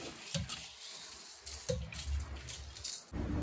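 Water is poured into a pressure cooker holding soaked dal for bisibelebath, splashing in short uneven bursts with brief pauses in between, close and moderately loud.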